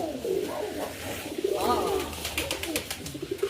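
A male Kalanka pigeon coos close by, giving a few low, throaty, rolling coos in quick succession. A faint tapping flutter follows near the end.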